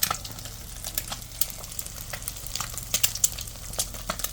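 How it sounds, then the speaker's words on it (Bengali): Dried red chillies frying in hot oil give a steady crackling sizzle with scattered sharp pops and a brief stir, close by, with no voices. "দুইটা হচ্ছে শুকনা মরিচ দিয়ে দিয়েছি মানে একটু ভেজে নিচ্ছি হালকা করে"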